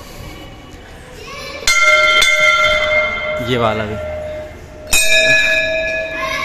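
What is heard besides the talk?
temple bell being rung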